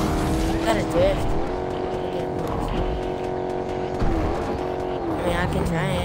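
A car drifts in Fortnite, its engine roaring loudly and continuously with squealing tires. Players talk over the sound.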